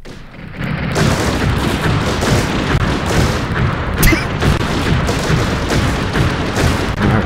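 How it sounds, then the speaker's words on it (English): A loud gunshot sound effect plays from a computer on Windows Vista, a sustained blast of crackling, booming noise with a sharp spike partway through, alone without talk. "There's also a gunshot."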